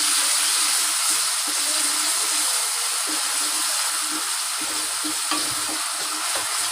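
Tomatoes frying in a pan for mixed daal tadka, giving a loud, dense, continuous sizzle with occasional stirring scrapes, close up.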